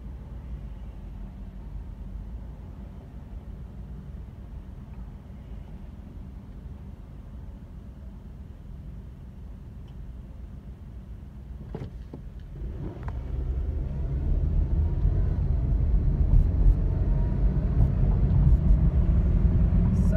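A car drives along a 40 mph street on a sunny day, heard from inside as a steady low road rumble and hiss that grows louder as it speeds up, with a couple of faint clicks.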